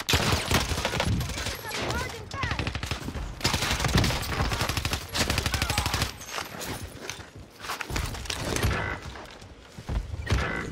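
AK74u gunfire from Call of Duty: Vanguard Warzone on Rebirth Island rattles in loud, dense automatic bursts nearly throughout, mixed with mechanical clatter and a few short pauses.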